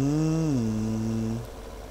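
A Fendt tractor engine in Farming Simulator 2017 drones with a steady harmonic hum, dropping in pitch partway through, then cutting off near the end.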